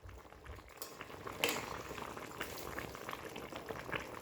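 Cauliflower and katla fish curry with potatoes boils steadily in a pot, a dense, continuous bubbling that stays fairly even throughout, with no voices.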